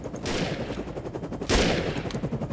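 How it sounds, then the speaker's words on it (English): Enemy gunfire in the game Defiance, a loud, close stream of rapid shots with a heavier burst about halfway through. "They're shooting from a wall?"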